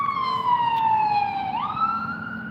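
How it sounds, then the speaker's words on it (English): A single wailing emergency vehicle siren on a Las Vegas street sweeps smoothly in pitch and then rises again, sounding loud and steady throughout with no talk over it. "it's always sirens"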